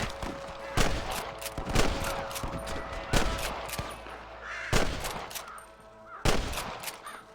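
Repeated sharp gunshots crack out at irregular intervals in the video game Red Dead Redemption, loud and close, mixed with a few caw-like cries and some background noise.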